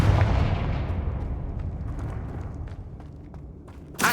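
A Confringo fire spell from Hogwarts Legacy lets out a loud booming blast up front, then a rumbling decay that fades over several seconds before a sharp new burst right at the end.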